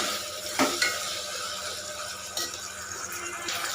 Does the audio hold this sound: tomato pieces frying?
yes